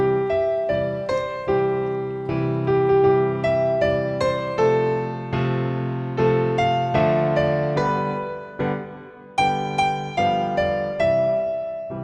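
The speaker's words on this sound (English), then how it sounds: "One other thing you can do is play the chords on beats 1 and 3." Piano chords played on beats one and three of a holiday song ring out with regular, evenly spaced strikes, each decaying before the next, a melody moving on top across the bars.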